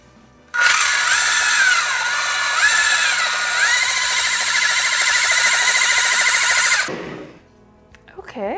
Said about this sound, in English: And then we'll just blend this up.